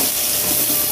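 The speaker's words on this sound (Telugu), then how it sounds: "ఇప్పుడు మా మమ్మీ ఆనియన్స్ వేసేసుకుంటున్నారు" Chopped onions frying in a pan for a homemade chicken biryani, a steady close hiss and sizzle filling the whole second with no pauses.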